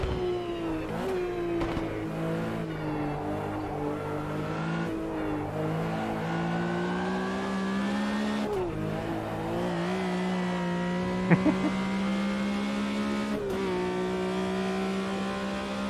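A Skoda race car in Automobilista 2 drives with a steady, raspy engine note, shifting pitch through gear changes and accelerations across a continuous run, with a brief tire squeal partway through.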